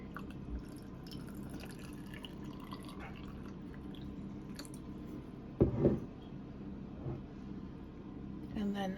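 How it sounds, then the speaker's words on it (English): Water is poured from a container over a ripped-up banana to make homemade garden fertiliser, a quiet trickling fill with a brief louder splash, under a speaking voice. "I'm just going to top it up with water."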